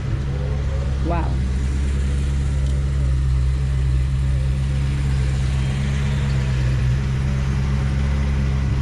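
A Chevy Tri-Five classic from the '55 to '57 run, painted black and maroon and fitted with a Corvette engine, idles with a deep, steady rumble at a car show, close by, with faint background chatter around it.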